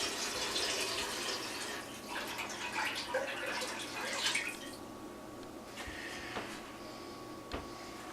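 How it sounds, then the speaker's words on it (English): Hot tap water runs into a container in a home kitchen, a steady hiss and splash that fades to a quieter trickle with a few drips and small knocks near the end. "You also want to fill this thing up with water, hot water."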